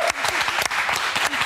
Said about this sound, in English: Big round of applause for these two.